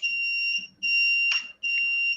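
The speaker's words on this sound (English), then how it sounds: "Is it getting too hot? Is that why it's beeping?" An FPV drone's beeper sounds a heat warning as three long, steady, high-pitched electronic tones separated by brief gaps, clear and fairly close with no talk over it.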